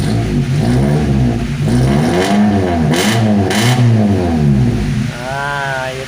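A Daihatsu Charade 1.3 engine fitted with a hoe-style rotor revs up and down repeatedly, its pitch sweeping in loud close waves, and someone speaks over parts of it.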